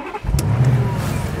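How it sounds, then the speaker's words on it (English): A 2013 Audi RS7 Sportback V8 Quattro starting from cold with keyless start, a quick crank followed by a loud, deep exhaust roar that holds steady and close. "it's got this really fantastic, you know, roar to the exhaust, especially when it starts up from cold"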